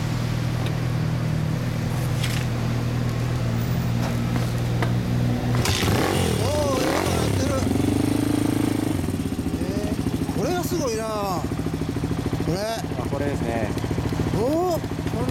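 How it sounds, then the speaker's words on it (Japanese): A modified Honda Ape motorcycle bored up to 100 cc with an aftermarket muffler idles and blips its throttle, a steady mid-pitched engine putter broken by sharp revs, close by, with people talking over it. "ごめんなさい、エンジン音。"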